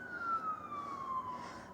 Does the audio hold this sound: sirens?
yes